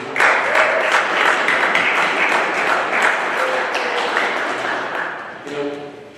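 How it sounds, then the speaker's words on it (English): Audience at a football awards banquet clapping steadily for several seconds, the applause mixed with voices and cheers, tapering off near the end as talk resumes. "And can we clap it up for the staff, please?"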